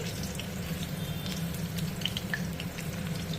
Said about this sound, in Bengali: ওই আলুগুলো ভাজছি